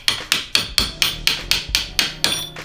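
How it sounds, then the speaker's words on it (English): Small punch struck against an axle collar during a classic Mini axle rebuild, ten or so sharp, evenly spaced metallic taps in a quick steady rhythm, close and clear with no talk. "I'm gonna tap it"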